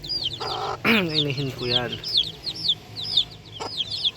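Chickens of a home-bred flock cluck and chatter close by in quick, repeated calls, while someone talks over them for part of the time.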